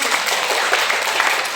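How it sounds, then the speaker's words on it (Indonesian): Congregation applause during a church service, a short continuous burst of many hands clapping together at moderate volume. "Berikan tepuk tangan kita."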